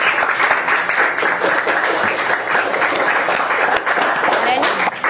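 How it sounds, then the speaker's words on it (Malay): Classroom of students clapping for a classmate, a lively burst of close applause sustained throughout with some voices mixed in. "Bagi tepukan pada Ariana."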